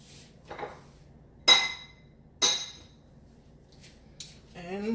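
A glass bowl being handled in a home kitchen while making General Tso chicken, giving a few sharp clinks and knocks spaced about a second apart, close and fairly loud, with a brief voice at the end.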